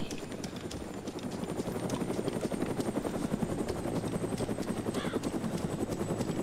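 A helicopter's rotor chops steadily and loudly throughout in the DayZ Origins video game, a continuous rhythmic thudding with no pause.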